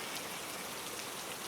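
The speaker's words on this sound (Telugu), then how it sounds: "వర్షం అస్సలు తగ్గట్లేదు" Heavy rain pours steadily over a rainforest camp, a dense, even hiss of drops drumming on surfaces with no pauses, close and loud throughout.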